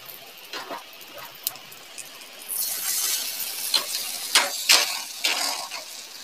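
An egg mixed with black pepper, yogurt and grated onion fries in a pan. A faint hiss swells into a steady sizzle, broken by occasional clinks and stirring scrapes.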